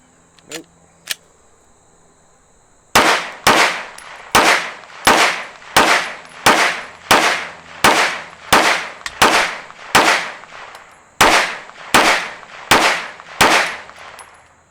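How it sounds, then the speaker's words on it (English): A Strike Industries Mass Driver gun fires Winchester Active Duty ammunition: two quick shots, a pause, then a long run of about seventeen sharp, loud reports at an even, unhurried pace, each ringing briefly before the next. "got a full mag of the Winchester active duty. Let's see if it can run through a whole mag."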